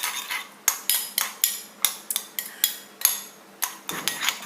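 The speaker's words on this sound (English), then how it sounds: "So a good dollop of mustard, give that a good stir," A spoon whisks mustard salad dressing in a bowl, striking the sides in a quick, regular series of bright clinks and scrapes, close and fairly loud, with no voices.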